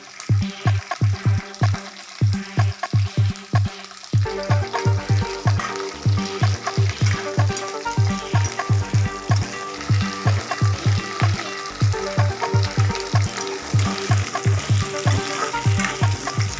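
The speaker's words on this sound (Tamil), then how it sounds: "இதில் பச்சை மிளகாய் கொஞ்சம் வதங்கினதும் சாம்பார் ஆனியன் போட்டு வதக்குங்க." Sambar onions (shallots) sautéing with green chillies in a pan, a loud continuous sizzle broken by rhythmic scraping strokes of a spatula stirring throughout.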